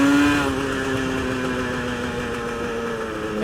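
A built Yamaha RD350 two-stroke cafe racer accelerates hard at full throttle, its engine note rising steadily in a loud, raw, buzzing wail close by.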